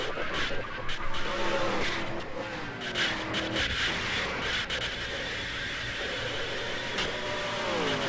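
A stock car in NASCAR Racing 2003 wrecks and skids, a loud engine drone with whining tire screeches rising and falling throughout, no speech.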